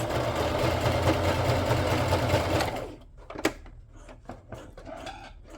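Sewing machine stitching fabric for an ephemera box, running loud and steady for nearly three seconds, then stopping, leaving scattered quieter handling clicks and taps.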